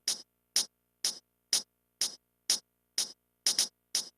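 A crisp shaker hit repeating in a steady even pulse, nine short bright bursts of hiss, played alone with silence between them.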